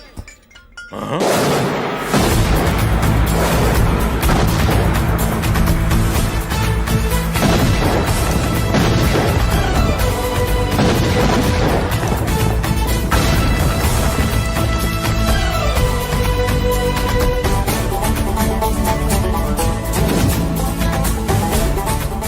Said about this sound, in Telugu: బాంబులు అప్పుండ్రీ.